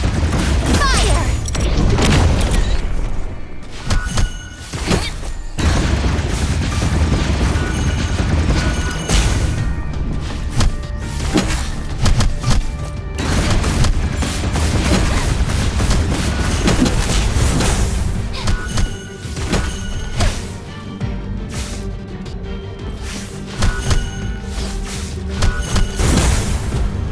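In the Black Beacon mobile video game, weapons fire and explosions keep up a loud, dense barrage of booms, crashes and thuds for the whole stretch, with voices and game effects mixed through the din.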